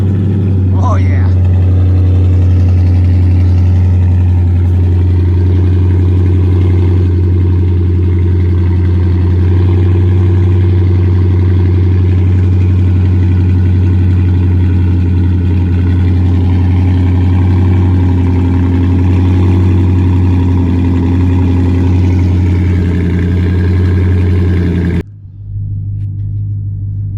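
A Dodge Charger SRT-8 V8 engine idling after a cold start, a loud, deep, steady rumble close up for about 25 seconds, cutting off abruptly near the end, with a person talking over it.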